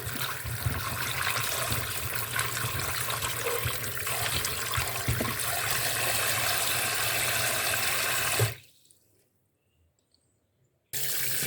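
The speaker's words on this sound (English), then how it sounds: "So I'm gonna go ahead and dump my bean in my container here, and I'm gonna go ahead and I'm gonna wash them." Beans being washed in water in a container, a loud continuous rush of running water and sloshing close by that stops abruptly, leaving near silence before water resumes at the end.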